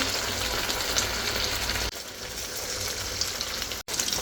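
Bread rolls deep frying in hot oil, a dense continuous bubbling sizzle that stays close and steady with a brief dip partway through, no voices.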